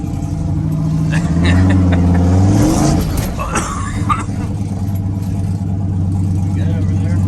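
A turbocharged LS engine in a square-body truck pulls away and revs up, its rising tone climbing over a couple of seconds before settling into a steady cruising drone inside the cab, with people talking over it.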